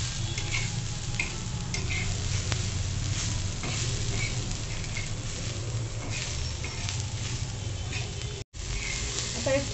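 Garlic, ginger and tomato roasting in a pan over a low gas flame, a steady soft sizzle with faint stirring ticks throughout, briefly cutting out near the end.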